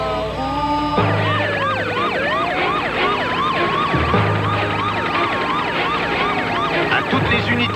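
Wailing siren from a blue police brigade commander's car, loud and continuous with rapid rising-and-falling yelp cycles. A lower engine or horn tone pulses underneath at intervals.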